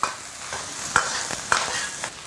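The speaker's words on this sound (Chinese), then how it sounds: "下入鸭子肉，先用大火给它爆炒" Duck meat stir-fried over high heat in hot rapeseed oil in a wok, a loud continuous sizzle broken by sharp spatula scrapes and tosses every half second or so.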